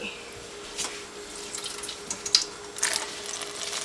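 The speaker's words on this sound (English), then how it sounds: "I'm going to put it in a colander to rinse it off" Water runs quietly from a tap into a colander while a dyed silk hankie is rinsed, with soft splashes and a few brief spatters.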